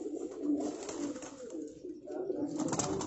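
Pigeons kept in a Rawalpindi loft coo in soft, continuous throaty murmurs close by, fairly quiet and with no speech over them.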